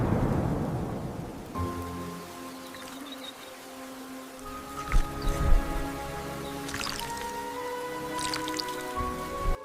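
Thunderstorm with rain and gusting wind over a garden, opening with a rushing burst, then steady rain and dripping with a low rumble of thunder in the middle and bright tonal accents, fairly loud and close.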